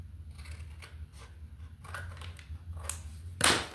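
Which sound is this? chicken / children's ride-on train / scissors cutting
scissors cutting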